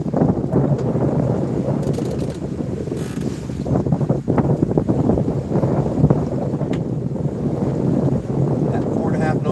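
A sailboat moves under sail at night, with steady wind buffeting and rushing water along the hull forming a continuous, fairly loud wash, while soft talk can be heard at times.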